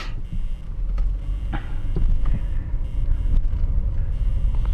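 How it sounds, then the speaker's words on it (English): A car pulls away from a parking lot space, a steady low engine and road rumble rising slightly as it moves off, with faint bumps and wind over the drive. "and then drive off."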